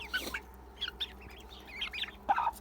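Chickens cluck softly in a small coop flock of young hens and cockerels, brooded by a Livenskaya Calico hen, with short, scattered calls and chirps over a quiet background hum.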